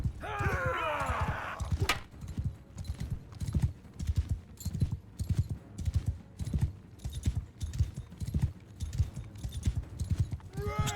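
Horse hooves clip-clop in a steady, loud rhythm while riding in the video game Mount and Blade II: Bannerlord, with a short whinny near the start and another at the very end.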